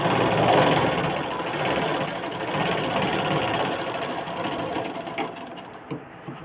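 A sewing machine stitches a blouse in a fast, continuous mechanical whir close by, holding steady before slowing and stopping near the end with a few small knocks.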